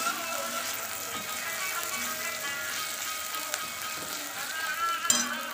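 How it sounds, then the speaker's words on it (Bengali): Onions lightly frying in a pan give a steady, soft sizzle with faint crackles, close and continuous, and a brief clink of a utensil near the end. "পেঁয়াজটা বেশি ভাজবো না, হালকাই ভাজছি।"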